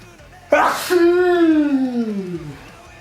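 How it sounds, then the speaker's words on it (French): A single loud sneeze bursts out close up, a sharp breathy explosion followed by a long, falling vocal groan. "Oh, j'ai envie d'éternuer."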